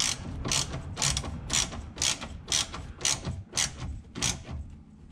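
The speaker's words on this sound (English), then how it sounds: "I'm snugging this bolt down, careful not to strip it out" A ratchet tightens a bolt on a Polaris Ranger UTV up close, giving about nine evenly spaced bursts of clicking with short pauses between the strokes.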